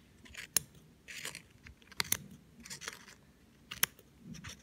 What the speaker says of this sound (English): You can see I put the tip of the scissors in, then lift the egg up, and then snip.